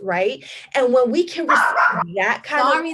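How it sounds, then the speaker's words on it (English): A pet dog barks a few times close by, its yaps overlapping continuous speech from someone talking throughout. "that's my dog."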